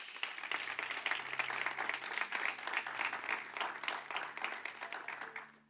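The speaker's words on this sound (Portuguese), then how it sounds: "um aplauso a Jesus." An audience at a church service claps steadily and loudly for several seconds, dense sustained applause that tapers slightly at the end.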